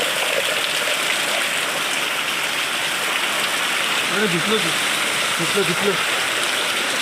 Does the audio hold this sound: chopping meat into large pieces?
no